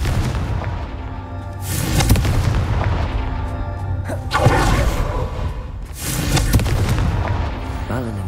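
The Confringo fire spell in Hogwarts Legacy lands as a series of booming blasts with whooshing bursts, several impacts spread evenly and loud, mixed with game effects.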